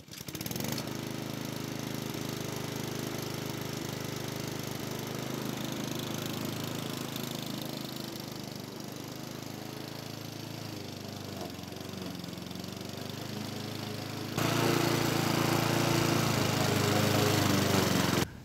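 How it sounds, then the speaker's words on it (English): Small push lawn mower cutting grass at a caravan site, its engine droning steadily near the microphone with uneven stammering dips, then surging louder near the end. "You can hear that mower stammering when it only hits a couple of inches of grass."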